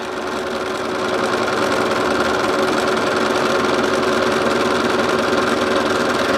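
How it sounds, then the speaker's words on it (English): An embroidery sewing machine stitches the word love in black thread, a steady, continuous mechanical whir and rapid needle rattle running close and even throughout, with no talk. "We are going to do the word love. And this is to be done in black thread."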